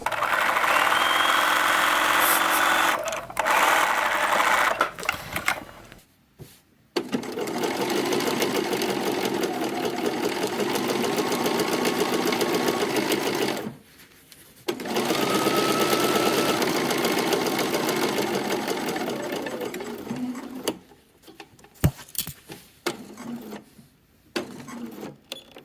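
A sewing machine stitches darts on a denim shirt made from a Simplicity 9106 pattern, running in three long steady bursts separated by short pauses, then a few brief stop-start stitches near the end.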